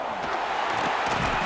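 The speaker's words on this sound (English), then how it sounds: "Big third down as the crowd gets behind this defense." A stadium crowd roars and cheers steadily in the College Football 26 video game during a third-down play, with a dense, continuous swell of noise filling the moment.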